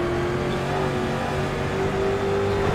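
Street stock race car engine in a racing video game at the Nürburgring Nordschleife, a steady loud drone held at a constant pitch throughout with no talk.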